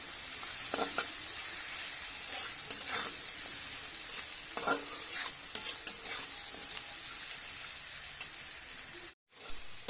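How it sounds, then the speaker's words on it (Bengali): Lentil dumplings (bori) stir-fried in oil in a pan, a constant close sizzle broken by repeated scrapes and knocks of a spatula, with no talk and a brief dropout near the end. "বড়িটা দিয়ে কিছু সময় একটু নেড়ে চেড়ে নেবো।"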